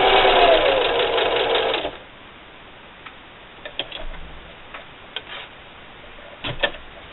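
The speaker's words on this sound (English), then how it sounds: "And just keep sewing." A sewing machine stitches a fabric bandana bib in a fast, steady whir that stops after about two seconds, followed by faint scattered clicks and handling noises.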